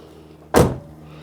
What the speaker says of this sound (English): Make sure the door shuts.